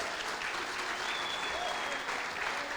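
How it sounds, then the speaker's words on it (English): A crowd at a Western Province Rugby gathering breaks into a continuous round of applause for the trophy-winning team, thick and even throughout the short stretch, with no gaps. "Give them a good round of applause."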